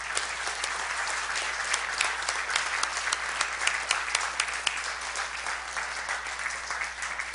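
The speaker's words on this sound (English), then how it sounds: "So big round of applause for our panelists tonight." Steady, loud applause from a live audience after a tech leadership panel on growing a development organization, sustained for the full stretch with dense overlapping claps.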